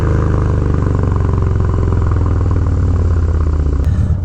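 Harley Davidson Dyna Low Rider fitted with an Arlen Ness air cleaner, engine running loud and close with a steady throbbing rumble and mechanical clatter, a brief sharp tick near the end.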